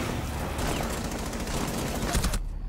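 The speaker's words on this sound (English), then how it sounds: "He fucking shot me through a wall, fucking randomly firing." Video game gunfire comes through a wall as a rapid, continuous burst of muffled automatic shots filling the whole moment before cutting off abruptly.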